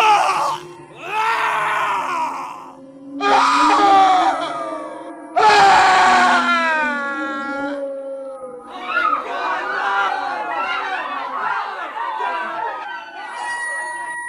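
A horror sound effect of anguished screams and groans, several long wailing cries rising and falling, then overlapping chattering voices, loud and close.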